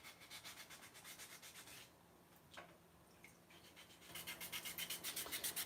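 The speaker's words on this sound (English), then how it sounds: "And now I'm using 400 grit sandpaper on this." Rhythmic back-and-forth strokes of wet 400-grit sandpaper rasping against a custom helmet, pausing briefly in the middle before resuming faster and louder.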